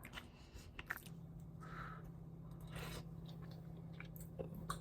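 Soft, close chewing of Trader Joe's butternut squash mac and cheese with Gouda, a few quiet bites and squishy mouth sounds over a low steady hum.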